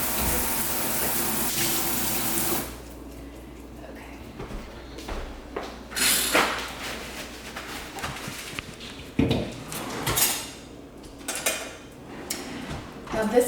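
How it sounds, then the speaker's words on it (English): Running tap water pours steadily for a couple of seconds as hands are washed in a kitchen, followed by intermittent splashes, clatter and a drawer-like knock, with a voice talking at times. "I'm gonna wash my hands while the pan starts to heat up."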